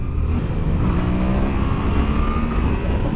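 Yamaha FZ-07 (MT-07) motorcycle engine on a 2016 model, pulling in second gear as the throttle rolls on and off, a steady close engine drone with rising harmonic tones running continuously throughout.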